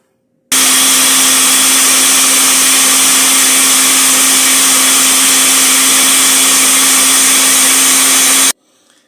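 A kitchen blender liquefies tomato plant material for an extract, a loud, steady motor whine running unbroken for about eight seconds before cutting off abruptly.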